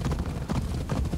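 Horse hooves pound in rapid rhythmic clip-clop beats as a mount gallops across ground in the video game Assassin's Creed Odyssey, steady and fairly close.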